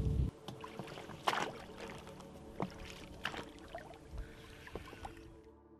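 Water laps and splashes around a small boat on a lake during carp fishing, with occasional knocks and creaks of the hull over a quiet outdoor background.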